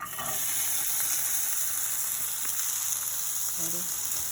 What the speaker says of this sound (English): We're just gonna take and add our veggies to the pan.